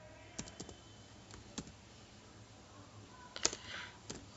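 Typing on a computer keyboard: scattered soft key clicks, close and fairly faint, irregular in rhythm with a slightly louder tap near the end, over a quiet room hiss.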